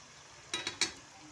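Liver frying in hot oil in a pan while it is turned, Alexandrian-style: a low steady sizzle with three short, bright scraping or clattering bursts close by.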